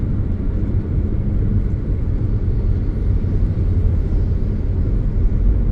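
A car cruises at a steady 80 to 90 km/h on the highway from Pune to Lonavala, giving a constant loud rumble of engine and road noise inside the cabin with no talk.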